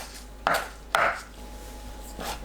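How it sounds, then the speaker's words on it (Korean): A knife chops green onions into short lengths on a cutting board for a mallow and fish cake soup: two crisp, close strikes in quick succession, then a fainter third cut after a pause, with no talk. "파를 1, 2cm 길이로 썰어주세요."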